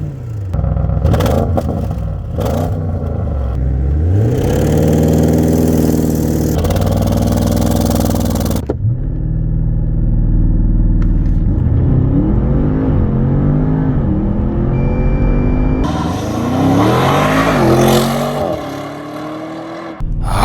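An Audi RS7 Sportback Performance with a 4.0 V8 accelerates hard from a launch, its loud engine climbing through several gears with sharp pauses at each upshift, close and steady for about twenty seconds with no talking.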